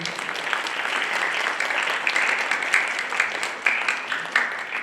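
Audience applause at an International Mother Language Day cultural event, a steady dense wash of many hands clapping, fairly loud and continuous with no talk over it.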